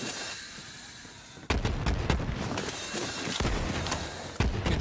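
Shotgun blasts in the video game Borderlands 3, several sharp, loud booming shots fired in quick succession after a quieter opening, each with a punchy low-end thump and brief rumble.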